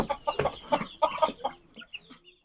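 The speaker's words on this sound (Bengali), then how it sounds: "এই সেই মোরগ, আজকে আমি একে বিক্রি করে দিব" A rooster clucks close by in a series of short, separate bursts that fade to softer clucks toward the end, with no other sound around them.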